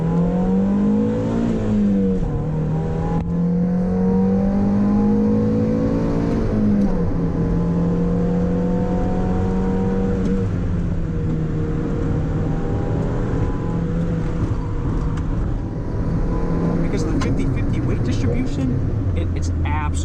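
Mazda Miata MX-5 engine droning steadily while driving, with pitch rising and falling through revs and shifts, close and continuous under someone talking.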